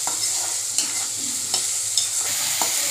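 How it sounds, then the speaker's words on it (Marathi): Garlic, chilli and onion fry in oil in a kadhai with a bright, steady sizzle, punctuated by regular scraping taps of a spatula stirring, close and without speech. "लसूण, मिरची आणि कांदा हे कढईमध्ये तळण्यासाठी टाकलेले आहेत."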